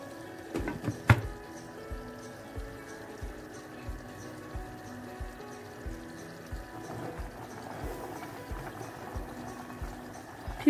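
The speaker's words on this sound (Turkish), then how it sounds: "Suyumuz kaynıyor gördüğünüz üzere." A low, steady bubbling of water boiling in a pot with rice for rice pudding, with a few soft clinks near the start and a constant simmering hiss throughout.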